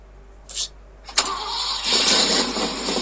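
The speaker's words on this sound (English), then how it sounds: "this is the last time this motor's ever gonna crank over" Ford F250 truck engine cranking briefly, then catching and starting, settling into a steady loud idle close by.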